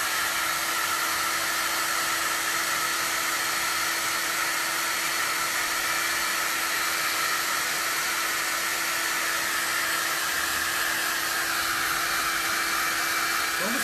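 A hair dryer blows steadily on a handmade craft gift, a loud, close, unbroken whir with a constant hum and no talking.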